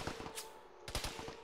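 Gunfire in a tactical multiplayer shooter game, a quick rattle of close shots mixed with a steady background hum, with a louder cluster of rapid reports near the end.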